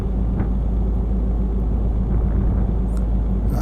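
A truck with an 18-speed retarder gearbox in Euro Truck Simulator 2, a deep steady engine rumble droning close and loud, alone without talk.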